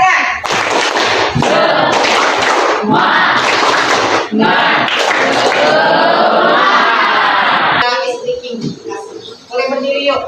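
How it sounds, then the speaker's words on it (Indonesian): A classroom of children claps and chants the tepuk semangat cheer together. Loud rhythmic group clapping and shouting come in bursts, then a teacher's voice follows near the end. "Kasih tepuk semangat, tetap tepuk semangat dulu. Oke, tepuk semangat."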